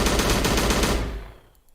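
Rapid automatic gunfire in a video game being built in Unity, a loud continuous burst that cuts off after about a second, followed by faint quiet.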